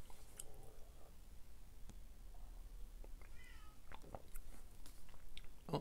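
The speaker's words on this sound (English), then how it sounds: "Oh, cat yelled." A cat lets out a faint, drawn-out yowl in the background of a quiet indoor room, soft and distant, with only low room noise and no talking.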